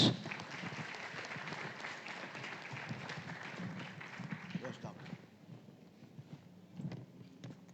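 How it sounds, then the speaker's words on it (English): Audience applause at a conference launch event, a dense wash of clapping that fills the hall loudly at first, then thins and fades into scattered claps over several seconds. "Let's give him another round of applause."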